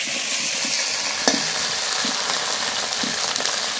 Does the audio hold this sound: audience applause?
no